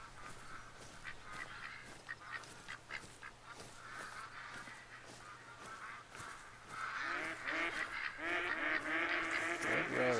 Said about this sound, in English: Here's some ducks.